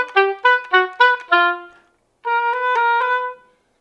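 An oboe plays an audition etude slowly, with five short detached notes followed by a pause and then a longer sustained legato phrase, solo and close.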